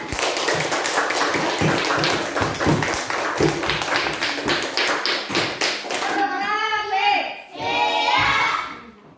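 Schoolchildren in a classroom clap their hands together in a brisk, irregular burst of taps for about six seconds, then the clapping gives way to a couple of short, bright tonal sounds that fade out.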